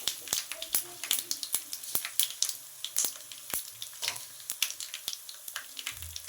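Curry leaves and a pinch of asafoetida crackle in hot oil for tomato chutney, giving a close, quiet sizzle broken by sharp, scattered pops over about six seconds.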